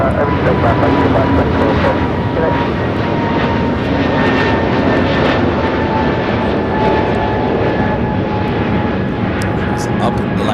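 An airliner takes off at Los Angeles International Airport (LAX), its jet engines producing a loud, steady roar that stays near and constant from start to finish.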